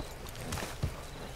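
Horse hooves clip-clopping in a western roleplay video game, a couple of soft, close hoof strikes over a low background murmur.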